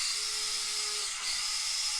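A Traxxas SCX24 RC crawler fitted with a new Barrage motor and ESC runs on high, giving a steady, close, high-pitched electric whine with a faint tonal hum beneath and no talking.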